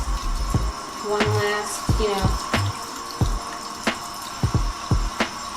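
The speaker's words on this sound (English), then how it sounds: "And now we're going to wash them with cold water." Cold tap water runs as small LPS plastic toy figures are washed in a sink, a steady splashing stream with clattering handling and brief knocks, close and moderately loud, with a few words spoken over it.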